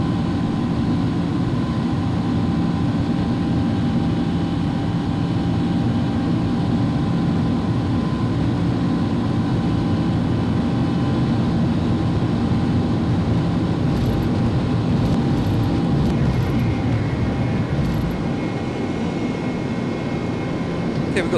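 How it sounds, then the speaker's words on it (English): iniBuilds A310-300 jet engines roar steadily at takeoff thrust in a flight simulator, a dense continuous drone with a high whine that holds loud throughout the run, with a few faint chimes near the end. "Thrust is set, and I'm holding the yoke forward to release at 80 knots"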